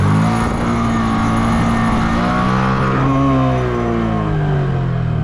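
A Honda Grom motorcycle engine runs in first gear in a parking lot, a loud, steady close drone with pitch rising and falling as the revs shift, carrying on alone throughout.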